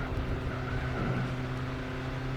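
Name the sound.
Subaru car engine in Gran Turismo 4 video game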